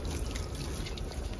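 Water rinses a Toyota Fortuner during a home car wash, a steady, continuous splashing and trickling wash with no break and no voices.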